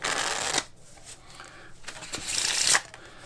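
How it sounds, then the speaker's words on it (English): Crisp riffling of playing cards in a table casino shuffle with a bridge, two bursts of fluttering card noise with a softer tapping pause between them. "And that's how you get a bridge with the Table Casino Shuffle."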